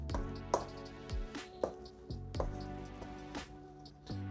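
Salmon meatball mixture with Dijon mustard and flour being mixed by hand, giving soft, close, wet squishing and tapping sounds at an irregular rhythm, quiet and without speech.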